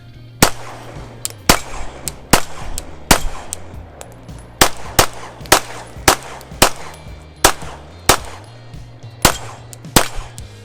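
Pistol shots from a Zev OZ9 fired with iron sights, about fifteen sharp, loud reports at a steady pace, each roughly half a second to a second apart.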